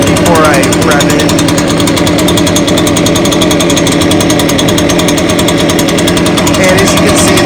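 A brand-new Echo PB580T backpack leaf blower idles as its engine warms up, a loud, close, steady two-stroke putter with a rapid even pulse and no revving.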